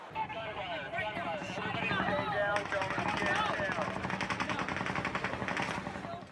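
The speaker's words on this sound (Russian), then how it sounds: "Внезапно со стороны отеля раздаются звуки выстрелов." Rapid bursts of distant gunfire crackle from the direction of a hotel over a noisy festival crowd in Las Vegas, with people shouting and talking throughout.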